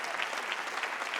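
A concert audience at a spring instrumental concert gives a specialist on stage a round of applause: a brief wash of even, continuous clapping, moderately soft and heard from within the hall.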